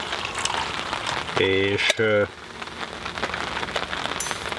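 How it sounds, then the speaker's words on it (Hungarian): Rain falls steadily on surfaces outdoors at a summer carp fishing spot, a constant hiss with scattered drops. A brief voice speaks over it midway through. "talán közben az eső is megáll majd"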